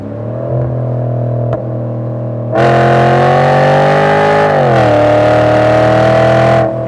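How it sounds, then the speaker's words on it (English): A Volvo S80 V8 sedan with a custom exhaust revs hard nearby, idling with a deep burble before surging into a loud, sustained roar that holds and shifts pitch, then drops off abruptly. "the pure excitement from that exhaust that roars through the back of your ears"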